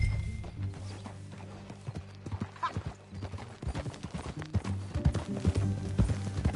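Horse hooves clip-clop at a steady ride in Red Dead Redemption 2, with a brief whinny and rhythmic thuds growing heavier toward the end, close and clear.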